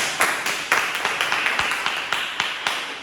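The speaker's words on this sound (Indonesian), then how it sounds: "Beri tepuk tangan untuk Mas Bijak" A small class claps for a student after he shares his opinion at the front, a sparse, uneven patter of individual claps that rises and falls over a few seconds with little talk.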